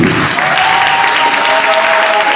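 Church congregation applauding loudly during a Sunday worship service, a steady dense wash of clapping filling the whole clip, with a faint sustained tone running underneath.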